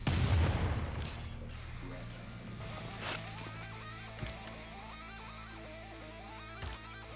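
Units firing in Civilization VI: a dense burst of gunfire and impacts opens, then fades into game music with a few scattered shots further on.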